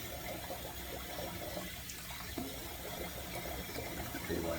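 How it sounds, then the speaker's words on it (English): Water runs steadily into a container being filled for soap making, a continuous close splashing stream with no voices. "I'm going to put some more water in here"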